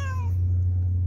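A cat hunting rats gives a single short meow at the start, set against a loud, steady low electrical hum that continues after it.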